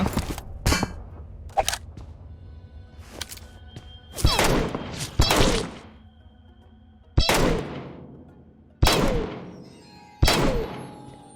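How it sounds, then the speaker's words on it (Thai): Gunshots in the battle royale game PUBG Mobile: sharp, clanging single reports spaced a second or two apart, with several close, loud shots trailing ringing decays. "มีคนยิงจากข้างหลังเหรอ"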